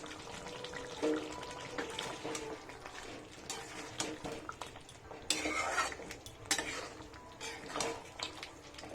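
Fried onion paste and dried red chillies are stirred into mutton kosha in a pot, with scraping spoon strokes, clinks of metal and a soft sizzle, the loudness rising and falling with each stroke.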